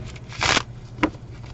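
A deck of tarot cards is shuffled in one short riffling burst, followed by a single soft tap as the cards settle, close up in a quiet room.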